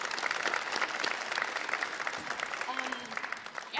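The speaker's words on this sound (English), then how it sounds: "so a round of applause for Al." At a winter evening school music concert, an audience applauds warmly, the clapping slightly muffled and tapering off toward the end as a voice or two begins to come through.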